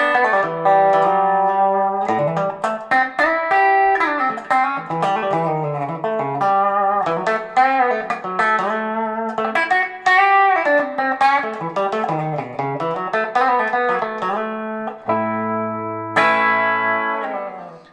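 A Music Man Axis Super Sport semi-hollow electric guitar plays through a clean Marshall amp with no effects, a lively run of picked notes and chords, bright and undistorted, ringing clearly on its own.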